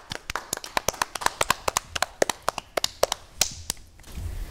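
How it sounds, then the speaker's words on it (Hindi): A small audience claps for child performers at a talent show, a quick run of sharp, separate hand claps that thins out and then stops, with no talk over it. "तालियां बजा दो।"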